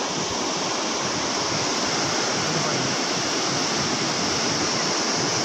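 Sea waves at Puri beach make a loud, constant surf wash, a dense roar of breaking water that fills the whole stretch without pause.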